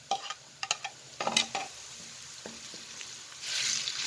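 Garlic and ginger go into a pan of golden-brown onions on low flame for aloo gobi. Sharp spoon-and-pan clatters come in short bursts, then a soft sizzle swells near the end. No one speaks.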